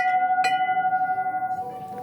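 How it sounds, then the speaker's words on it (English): A large decorative bell is struck once in a store, giving a clear ringing tone that sustains with a slow wavering pulse and fades gradually over two seconds. "Large bell."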